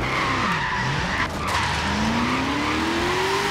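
Shelby GT500 drift-build car in Forza Horizon 3 sliding with continuous loud tire squeal over a rising, revving engine note, steady and close for the whole stretch.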